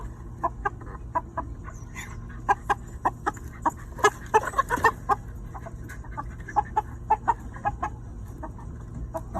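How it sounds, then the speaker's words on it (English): Big rooster on a homestead clucking close by in a rapid run of short, sharp clucks with a few louder bursts mid-way, over a steady low background hum. "All right, big rooster."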